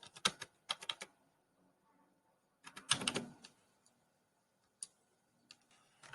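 Bursts of computer keyboard typing, clustered key clicks in short runs separated by quiet pauses, close and fairly crisp, with a few isolated single taps toward the end.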